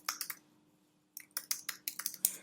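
Typing on a computer keyboard up close: a few quick keystrokes, a short pause, then a rapid run of crisp clicks.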